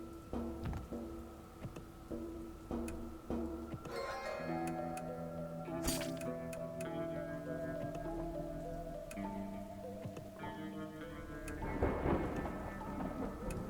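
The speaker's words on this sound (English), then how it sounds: "How much longer is it going to rain for?" Rain patters steadily through a thunderstorm in the video game Dustland Delivery, with rumbling thunder, a sharp crack midway and layered game music tones over the downpour.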